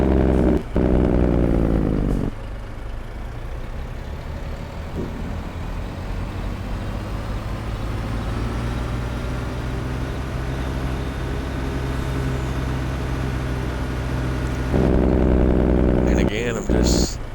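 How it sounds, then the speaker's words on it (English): A truck engine in Farming Simulator 22 rumbles steadily at idle and low revs for a long stretch, with louder bursts at the start and end and a loud, close, continuous drone. "listening to the sounds of this truck."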